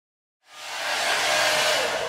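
A hair dryer drying short natural hair switches on after a moment of silence and settles into a steady, loud, close-up hiss of rushing air.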